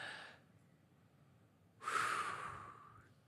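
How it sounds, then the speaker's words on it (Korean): Church congregation during a Sunday worship sermon draws a deep collective breath, a faint airy inhale followed by a longer, louder rushing exhale, distant in a large room. "한번 깊이 한번 숨 쉬어볼까요?"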